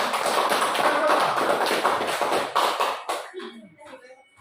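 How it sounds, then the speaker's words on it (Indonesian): A classroom group applauds a student group after its presentation. Dense clapping is sustained and loud at first, then thins out and fades as a voice begins speaking near the end. "Jadi kita kasih aplaus untuk kelompok 3 yang sudah berani tampil duluan."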